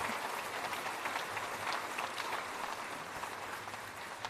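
Sustained applause from a large audience at a national bravery awards investiture ceremony, an even, continuous wash of many hands clapping, heard from some distance without voices.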